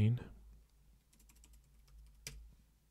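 Code being typed on a computer keyboard: a quick run of light, close keystrokes clicking in a cluster, then a sharper single tap after a short pause, with no voice over it.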